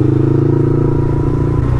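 Yamaha MT-25 naked motorcycle engine running steadily while riding, a loud, continuous droning hum with a low throbbing pulse throughout and no voices.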